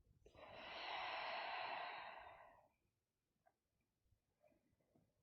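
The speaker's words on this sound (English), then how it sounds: "Deep breath out." A single deep, audible exhale during a yoga breathing exercise, a soft breathy rush that swells and fades over about two seconds, followed by near silence with faint small clicks.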